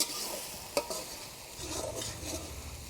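Spice paste and tomato being stirred and fried in a pan for a Bengali bhola fish bhuna, with steady close sizzling, scraping stir strokes and one sharp knock of the utensil against the pan.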